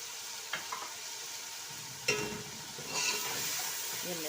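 Spices hitting garlic-ginger paste in a cooking pot for potato rice, giving a steady sizzle with a few scraping stir clanks, moderately close.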